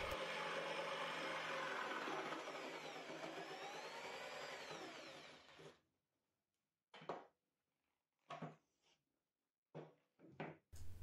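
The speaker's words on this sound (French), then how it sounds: "Pour les coupes qui ne sont pas complètes, j'utilise la scie sauteuse." Jigsaw cutting wood wall cladding strips with a loud, continuous buzzing rasp for several seconds, then stopping; afterwards only short, sharp knocks and clatters of handling, with no talk.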